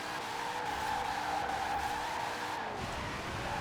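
Twin Mill car with nearly 2000 horsepower in Forza Horizon 4, its engine droning steadily and a touch of tire noise as it accelerates in a high gear, at moderate loudness with no talking.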